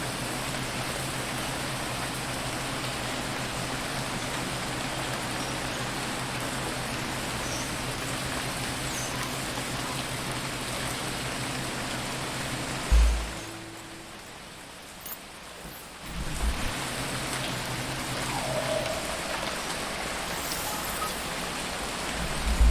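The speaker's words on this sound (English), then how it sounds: "When the rain is pouring down." Steady heavy rain pours down on an alien planet in the game Phoning Home, a dense continuous hiss that cuts out abruptly for a few seconds with a low thump, then returns at full strength.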